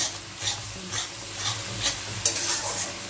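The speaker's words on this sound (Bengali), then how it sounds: "চলো ভালো করে কষিয়ে নিই।" Masala for a green pea (koraishuti) dish stirred and fried in a pan, with a regular rhythm of spatula scrapes roughly every half second over a continuous gentle sizzle and no voices.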